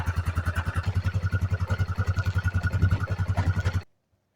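A Yamaha Grizzly 660 ATV engine idles with a steady, rapid chugging pulse, close and even, then cuts off abruptly into silence.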